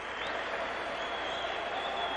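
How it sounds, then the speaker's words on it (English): A vocal crowd at a futsal match between Costa Rica and Russia cheers and applauds steadily, a dense, continuous roar of clapping and voices filling the whole stretch. "A vocal crowd here."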